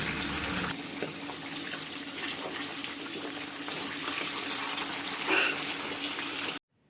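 Paneer sizzles and fries in hot oil in a kadhai, a continuous bright crackling hiss that starts abruptly and runs steadily near the microphone before cutting off, with no talk over it.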